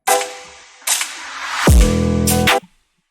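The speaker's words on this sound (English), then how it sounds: "some other things that I added to make the beat more interesting is I added this little riser here" Short riser sound effect in a drill beat: noisy bursts building into a rising swoosh that drops into a booming low hit and cuts off abruptly, loud and close.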